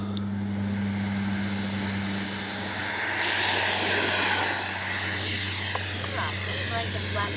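An FMS Su-27 twin 70mm EDF RC jet spools up for takeoff, a steady loud ducted-fan whine rising in pitch and swelling over several seconds, with a voice speaking nearby.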